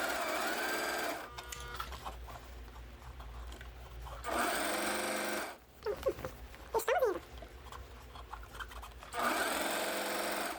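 A sewing machine runs in steady, loud bursts that stop and restart several times, with someone speaking Portuguese in the gaps and over the whirring.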